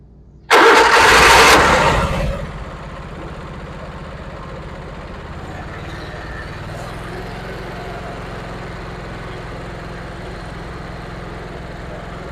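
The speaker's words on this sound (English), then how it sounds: "Just gonna crank it up and show you all the functions work." A 2017 Vermeer SC362 stump cutter engine cranks over loudly for about two seconds, catches, then settles into a steady, moderately loud idle that runs on alone.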